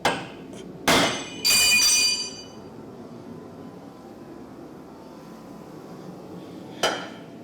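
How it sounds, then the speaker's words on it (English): A sledgehammer drives a chisel against the wrecked body panel of a 2014 Nissan 370Z: two sharp, loud metallic strikes close together with ringing overtones, then a quiet stretch and one more hit near the end. "So I use a chisel like this, so I can get to hit the edges."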